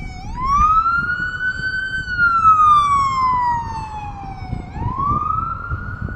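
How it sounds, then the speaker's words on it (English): An emergency vehicle siren in a British Columbia city wails loud and close, rising and falling in long sweeping tones over faint street noise. "Very common noise around British Columbia is these sirens"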